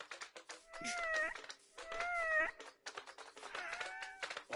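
Cats in Minecraft meow three times in a row, each a drawn-out, wavering call over a steady rustling, noisy background.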